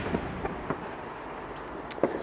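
Fireworks go off over London on Bonfire Night, a scattering of faint, distant pops and crackles spread across a low rumbling backdrop, with a slightly sharper burst near the end.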